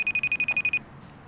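A telephone rings in a rapid electronic trill of about ten short pulses, fairly loud and close, then stops, leaving quiet room tone.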